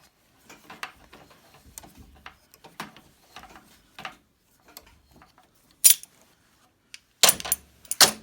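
Vice grips clamped over a rag-wrapped ball joint loosen a snowblower chute cable part, giving scattered near metallic clicks and scrapes that build to two louder sharp metal clanks near the end.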